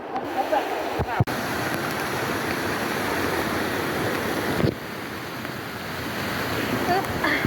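Continuous rushing roar of a waterfall heard up close near a cave, broadband and steady, with wind buffeting the microphone and a couple of sharp handling knocks.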